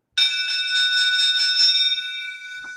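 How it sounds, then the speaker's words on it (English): A bell sound effect marking a super chat on a livestream, a bright ringing tone with quick rapid pulses sustained for about two seconds, then fading out. "this is why I need a real bell."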